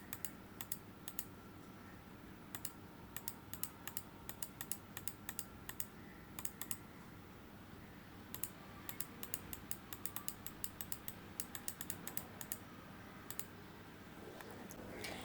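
Computer mouse clicks while arcs are drawn in GMS groundwater modeling software: sharp, faint clicks come singly and in quick clusters over a quiet room hum, with no talking.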